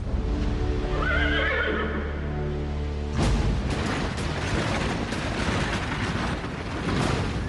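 A horse gives one loud whinny that rises and falls over about three seconds, then a dense rumbling, rushing noise like hooves and a crowd takes over and keeps going to the end.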